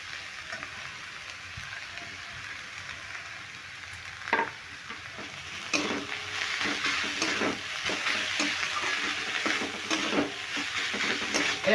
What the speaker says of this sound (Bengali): এবার ফুলকপি আর গাজর ভালো করে মশলার সঙ্গে নিয়ে একটু কষিয়ে নেব 3 থেকে 4 মিনিট